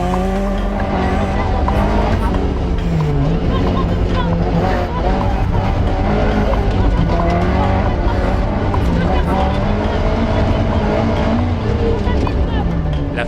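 A brand-new Opel Manta 400 rally car wearing number 1 drives on a historic rally in Morocco, its engine droning steadily close by with tire noise, under continuous talk.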